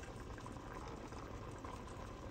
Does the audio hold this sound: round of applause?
no